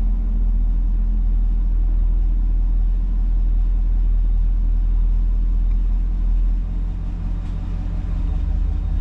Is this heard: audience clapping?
no